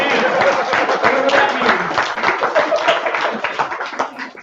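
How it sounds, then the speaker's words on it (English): A crowd claps and applauds at a live charity beard competition, a steady dense patter of hands that holds for several seconds before tapering off, with voices mixed in. "Round of applause."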